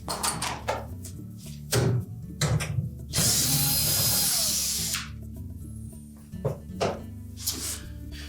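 A power drill backs out a bolt on a Whirlpool refrigerator's front roller assembly in a sustained whirring burst, with metallic clanks and ratcheting tool handling before and after.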